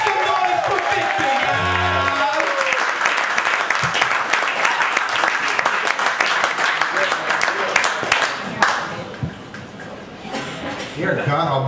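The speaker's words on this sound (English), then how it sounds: "Make some noise for Victor" A spoken word poetry crowd at an NYC venue bursts into loud, sustained applause and cheering for a poet taking the stage, dense clapping that fills the room, with a host's voice over it at the start.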